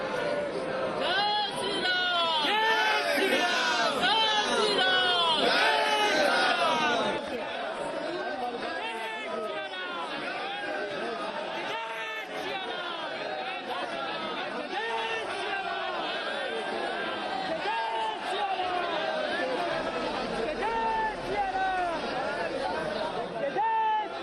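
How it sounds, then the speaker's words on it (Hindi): Crowd of pilgrims at the Ayodhya Ram Mandir, a dense continuous babble of many voices talking at once, loud and close throughout, with no single voice standing out. "हाँ, बहुत भीड़ है"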